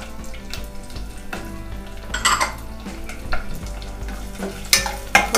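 Green chili pieces fry with curry leaves in a pan for a cauliflower makhani masala curry: a crackling sizzle under the clatter of a utensil scraping and knocking against the pan, with a couple of louder metallic clinks.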